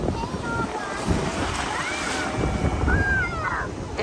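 Ocean surf breaking on a beach, a steady wash of waves under heavy wind buffeting on the microphone, with a swell of rushing water toward the end.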